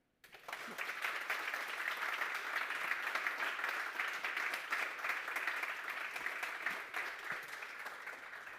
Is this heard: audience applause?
yes